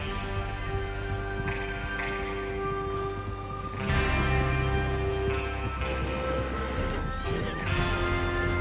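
Horses in a video game give a loud whinny over a steady clip-clop of hooves, with ambient game sound and a further neigh later, all close and continuous.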